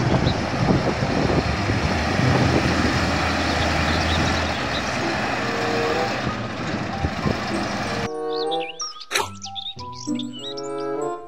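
Toy dump truck with a busy jumble of motor whir and electronic reversing beeps for about eight seconds, then a burst of synthetic chirping tones and toy sound effects.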